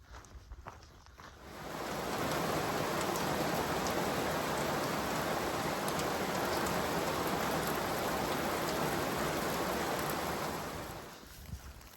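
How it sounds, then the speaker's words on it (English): Steady rain shower drumming on a trail shelter along the Appalachian Trail, a dense, even hiss that swells in after a couple of seconds, holds loud and unbroken, then tapers away near the end. "wait for this little rain shower to pass by."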